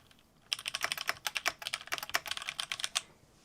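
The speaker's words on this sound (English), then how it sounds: "I thought this was kind of thocky because relative to my keyboard, like listen to the two" A fast burst of typing on a mechanical computer keyboard, either the owner's own board or a MCHOSE ACE 68 Turbo Hall Effect board, gives crisp close key clacks in a quick irregular rhythm for about two and a half seconds.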